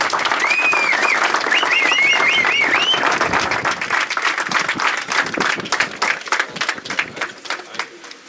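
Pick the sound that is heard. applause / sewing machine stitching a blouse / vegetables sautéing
applause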